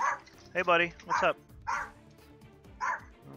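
A dog indoors gives a few short, sharp barks and yips in quick succession, close by, mixed with a voice speaking to it.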